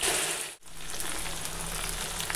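Vegetables fry in a pan, making a dense, steady sizzling hiss that drops out briefly near the start and then continues evenly up close, with no speech.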